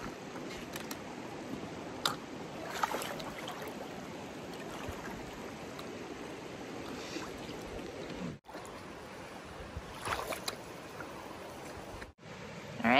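Steady rushing water swirls and splashes close by as someone wades across a shallow river on the Appalachian Trail, with sloshing movement through it and a couple of brief drops to near silence.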